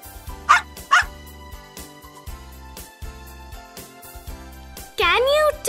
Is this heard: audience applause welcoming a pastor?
no